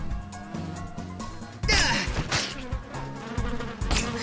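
A fly buzzing close by in an animated Spider-Man cartoon, a whining drone that wavers and swells, with a sudden louder burst midway and some background sounds around it.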